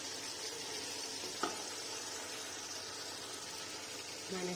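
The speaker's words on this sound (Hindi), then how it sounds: "मसाला गया है भून। अब हम इसमें डालेंगे आलू जो मैंने काट के रखे हुए थे।" Frying masala sizzling steadily in a pan for aloo matar chicken curry as chopped potatoes go in, close and continuous with a brief utensil clink.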